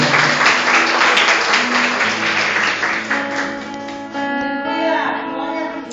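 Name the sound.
congregation applauding in church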